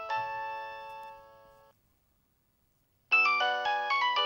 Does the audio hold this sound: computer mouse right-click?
no